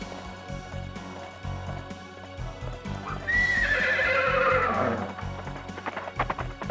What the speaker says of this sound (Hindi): इस घोड़े को पकड़ो।